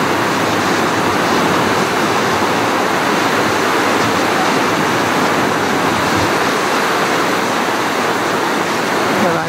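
Steady, loud roar of a waterfall in Provo Canyon, a dense continuous rush close by with no breaks.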